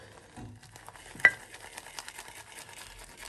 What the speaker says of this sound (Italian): impugniamo bene la ciotola, che ha anche qua un po' d'acqua, è rimasta proprio una goccia, e iniziamo a montare